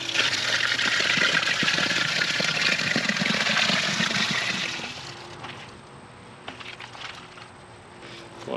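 Wet concrete pours for a 20ft flagpole base, a loud steady rushing slosh for about five seconds that then drops away, leaving quieter scattered taps and shuffling.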